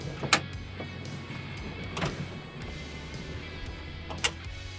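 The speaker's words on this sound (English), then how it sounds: "hit the button, comes down electronically" An electric rear wheel carrier on a slide-on camper mounted to a truck lowers the second spare wheel with a steady motor whir, broken by a few sharp clunks and knocks, heard close with no talk.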